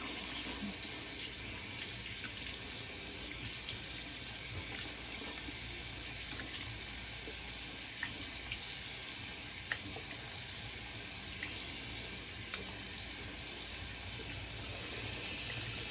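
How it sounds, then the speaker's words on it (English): A bathroom tap runs steadily for a cold water rinse during a wet shave, a faint, continuous hiss of flowing water with occasional small splashes and clicks. "All right, cold water rinse."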